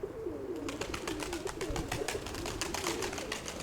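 Pigeons coo steadily and close by in a continuous rhythmic stream of soft, throaty calls, with faint background rustle and no speech.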